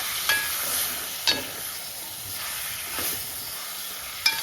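Rice and peas being stirred in a pot, with a few quiet scraping strokes spaced apart over a faint, steady sizzling hiss; no talking.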